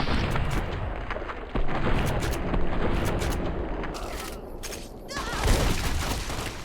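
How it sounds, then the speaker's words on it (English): Shotgun gunfire in a Fallout game, with a rapid series of loud blasts and booms over dense battle noise, several sharp shots standing out and a heavier boom near the end. "let's shoot him in the right arm"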